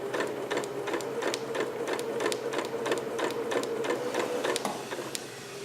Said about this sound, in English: And then just start stitching that